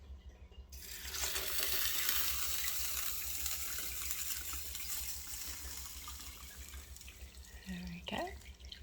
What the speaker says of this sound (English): then what we're going to do is we're going to top it up with water.